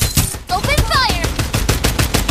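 Rapid automatic gunfire in the shooter video game Farlight 84, a loud run of evenly spaced shots with short electronic tones layered over the top.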